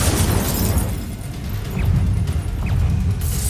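An Incendio fire spell cast in Hogwarts Legacy, a loud, dense fiery roar and rumble filling the whole moment, with a couple of brief whooshing accents, no speech.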